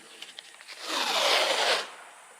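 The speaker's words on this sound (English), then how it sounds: "I'm going to put a little bit of tape down on this body seam here" Masking tape is pulled off the roll and pressed down along a body seam on the painted skin of a Piper PA-46 Malibu, a short ripping strip sound building to a sustained tearing hiss, close and alone after a few faint taps.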